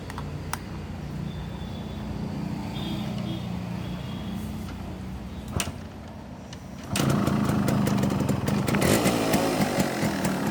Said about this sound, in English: I have fixed a 4-speed stock silencer from RX 100